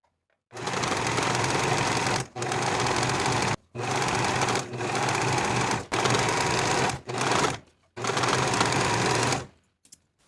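A sewing machine stitches the side seams of a garment at a 1/2 inch seam allowance, running in six steady, close bursts of rapid whirring separated by short pauses.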